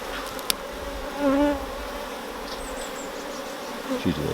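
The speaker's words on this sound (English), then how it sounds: "bees can get through that top." Honey bees buzz around an open hive during a colony inspection, a steady close hum with individual bees passing nearby and a few faint handling clicks.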